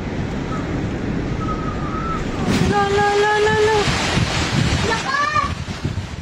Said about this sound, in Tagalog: Tila nagsasayaw ang mga puno dahil sa lakas ng hangin.